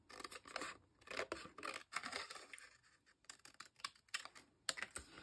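Scissors snip through paper along a drawn line while trimming a piece for a fringed birthday-balloon papercraft, giving a run of crisp, close cutting bursts with short pauses between strokes.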